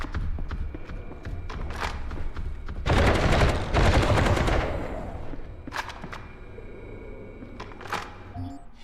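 Submachine gun fire in the video game Stoneshard, a dense rattling burst of rapid shots at the center, surrounded by sparser sharp clicks and game sounds.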